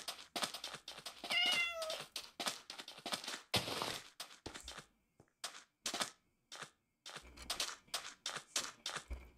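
A Minecraft cat meows over and over, short close mews in irregular bursts with brief pauses, one longer drawn-out call early on, and no voices.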